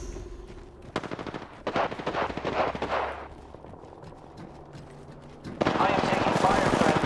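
Automatic gunfire from the Apex Legends video game, as a Gibraltar match plays out: sustained rapid bursts rattle at moderate loudness, broken by a lull, with in-game voice callouts over the shooting.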